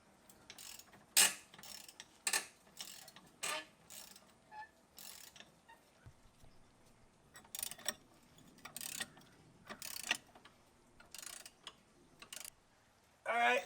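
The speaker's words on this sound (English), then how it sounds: "Alright, so we got those bolts off." A ratchet wrench takes bolts off the rear suspension of a Mustang, bursts of rapid ratcheting clicks repeating through the clip with short pauses, close and clear with no talking.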